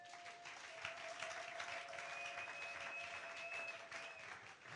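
A church congregation applauds Jesus with steady, dense clapping that fills the whole stretch at an even level, while a held tone sounds underneath.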